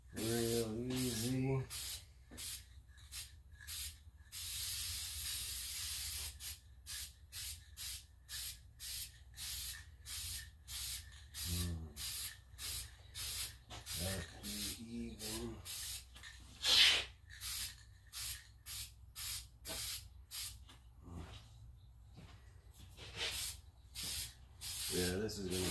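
Light coats of finish are sprayed onto a teardrop trailer in rapid short hissing bursts, with a few longer sprays between them, and someone speaks in between.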